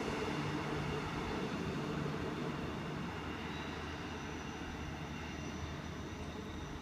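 Queensland Rail Shorncliffe service train at Wooloowin station, a steady, loud rumbling roar of the passing train with a low hum, holding nearly constant and easing slightly toward the end.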